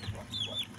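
A native chicken at a backyard home farm gives a single short cluck, brief and close, over faint background noise.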